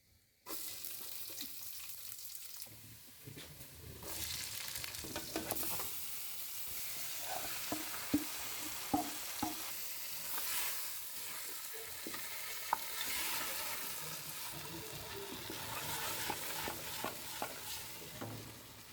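Food seasoned with salt and chili sizzles steadily in a pan on a stove, with scraping and clinking stir strokes cutting through the constant frying hiss. No one speaks.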